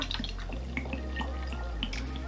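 Kahlua coffee liqueur is poured into a cup for a White Russian cocktail, giving soft liquid trickling and dripping sounds close by over a low background hum.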